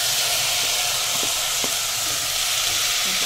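Rice hits hot oil for veg pulao, and a loud, dense sizzle hisses steadily throughout at close range, with a few faint stirring knocks and no talking.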